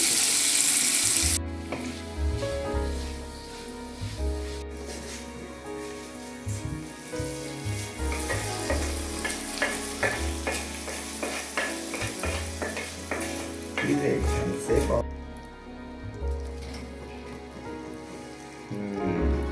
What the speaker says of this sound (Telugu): ఇక తాలింపు వేసుకొని